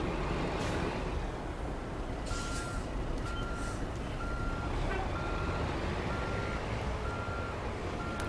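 Repeated reversing beeps from a truck in American Truck Simulator, steady evenly spaced tones sounding over a constant loud engine rumble, with a brief hiss of air brakes.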